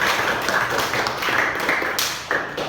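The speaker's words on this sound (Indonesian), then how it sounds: "Beri tepuk tangan." Classroom students clapping together on cue from the teacher, a loud burst of close hand claps with uneven rhythm that fades in waves over a few seconds, no talk over it.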